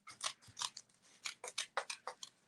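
Scissors snip around a homemade cardboard stamp in a steady run of close, crisp cuts, about a dozen in quick succession.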